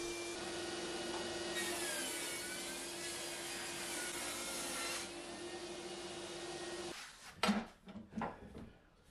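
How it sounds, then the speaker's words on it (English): A small battery-operated DeWalt saw with a thin blade cuts through a wooden board, a steady whirring motor whine that holds for several seconds before stopping, followed by a few knocks and clunks of wood being handled. "on the small battery operated DeWalt saw"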